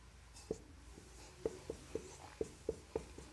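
Chalk taps and scratches on a classroom board in short, evenly spaced strokes, about eight distinct knocks over a few seconds, close but fairly quiet, with no talking.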